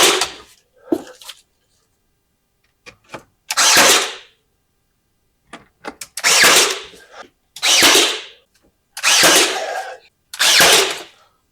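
A Ryobi lithium battery-powered brad nailer fires nails in five sharp, loud bursts spaced a second or two apart, with small clicks and handling noises in the quiet gaps between shots.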